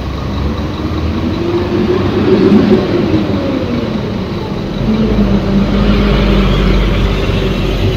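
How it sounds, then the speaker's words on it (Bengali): A Kuala Lumpur monorail train passes, giving a broad, steady rumble and rush that swells and holds near its peak through the second half, with no clear talk over it. "এখানে দেখতে পাচ্ছ মনোরেল যাচ্ছে, এটা হচ্ছে মনোরেল"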